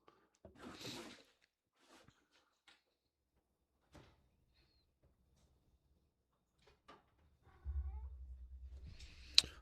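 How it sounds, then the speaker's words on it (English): A hungry house cat yowls and meows in a few short, scattered cries, moderately close, with quiet clatter and a rumble of household movement toward the end. "Would you feed the yelling cat?"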